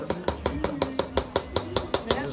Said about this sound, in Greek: Τάκ, το σφυράκι, να το.